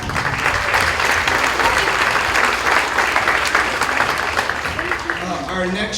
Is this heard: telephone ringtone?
no